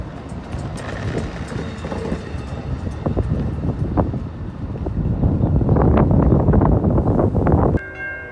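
Train 350 passes heading northbound toward Troy and Pontiac in Royal Oak, Michigan, a loud rumbling roar with rattling and clanking that swells over several seconds, with a bell ringing nearby and no talking.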